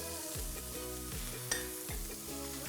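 Chili powder sizzles with onions and aromatics in a pan, a soft continuous frying hiss beneath recurring low tonal sweeps, with one brief utensil clink partway through.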